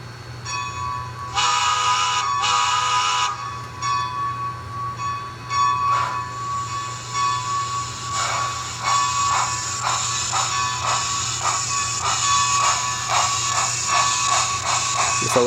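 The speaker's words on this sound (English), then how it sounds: "So this is the Bachmann K4, as you see it's on DCC, and let it run" Bachmann K4 model steam locomotive on DCC pulling a long train, a steady mechanical running hum with repeated rhythmic clicking of wheels over track joints, loud and close with no talk.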